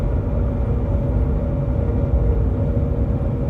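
A Jeep's rear differential, fitted with a TrueTrac unit, howls steadily while driving after driveshaft and U-joint work, a constant whine riding over dense low road and drivetrain rumble with no breaks.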